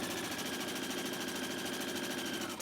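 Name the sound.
sewing machine stitching fabric mask pieces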